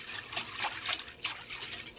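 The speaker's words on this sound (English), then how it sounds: "Let's give this a mix." Water being stirred into handvo batter in a bowl, a run of soft wet sloshing and spattering strokes with a few sharper splashes, close and moderately quiet.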